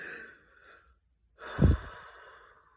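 A deep, forceful exhale during a belly-breathing exercise, preceded by a softer breath, close and alone with no talk.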